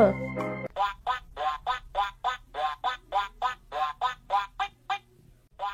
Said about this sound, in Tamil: குள்ள குள்ள வாத்து குவா குவா வாத்து